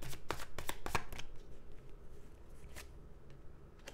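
Tarot cards are shuffled close up in a few quick riffling bursts, then softer sliding and tapping of the deck, with no talking.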